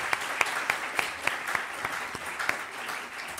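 Audience applause for comedian Valeria Ros at a national comedy congress: a steady wash of many hands clapping at moderate volume, with a few sharper individual claps standing out, and no talking.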